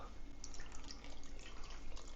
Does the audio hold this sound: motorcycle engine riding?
no